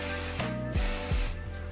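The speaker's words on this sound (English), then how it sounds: "I'm gonna spray my hair one more time and then comb it back." Hairspray hisses from an aerosol can onto hair in a few quick, close bursts, with soft mechanical clicks between them.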